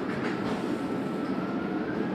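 Inside a moving tram, a continuous low rumble of wheels and motor with faint rattling, steady and fairly loud throughout, with no voices.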